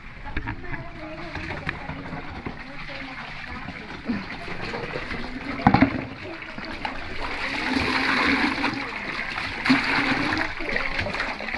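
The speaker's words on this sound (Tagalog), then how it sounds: "Magtapon ako ng tubig." Water is thrown and pumped to flush out a clogged drainage canal, a continuous rushing and splashing with a sharp splash midway and a voice talking over it.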